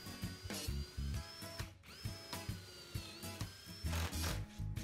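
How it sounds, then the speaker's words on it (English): A power drill bores pocket holes into birch plywood stretchers, its motor whining steadily and rising in pitch with short dips as the bit cuts, close and continuous. "Next, we're going to drill pocket holes in all the stretchers for the sides."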